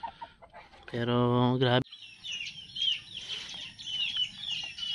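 A five-month-old stag, a young rooster at a beach, gives a loud, strained crowing cluck, then softer scattered clucks and chirps while a person talks nearby.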